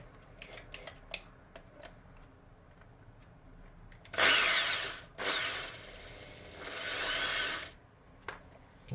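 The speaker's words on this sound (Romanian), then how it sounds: "Se fixează în bormașină." An electric drill spins up in bursts while polishing a mechanical vape mod, three loud whirring runs with short pauses between, preceded by faint clicks and handling noises.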